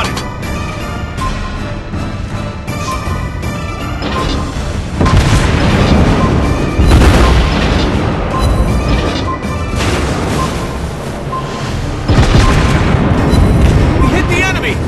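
Naval gunfire and explosions in the World of Warships Blitz video game: loud, dense rolling booms and blasts layered over one another, with a voice speaking over the battle noise.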